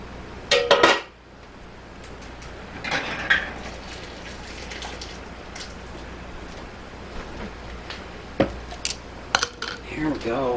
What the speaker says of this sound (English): Just gonna get my ladle out in some jars.